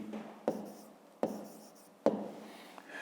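An answer is handwritten with a pen on paper, heard as three short, close scratching strokes roughly a second apart, each starting with a sharp tap and trailing off, quiet and with no speech.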